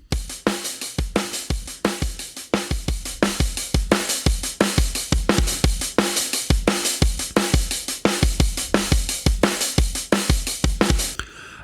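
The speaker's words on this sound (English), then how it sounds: "it's an old school break from my sample pack. Old school break style drum loop." Old school break-style drum loop from a sample pack, with punchy kicks, snappy snares and busy hi-hats repeating in a steady groove, loud and alone throughout.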